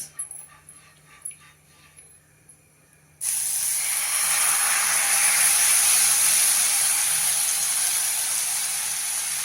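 Oil poured onto a hot pan for a sorghum flour dosa breaks into a loud, steady sizzle and hiss after a few quiet seconds, continuing close up with no talking.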